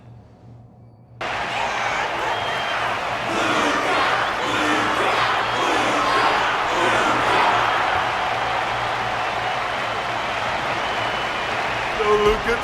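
Sustained crowd applause and cheering in the video game Honkai: Star Rail begins abruptly and continues steadily, with a voice speaking over the dense clapping.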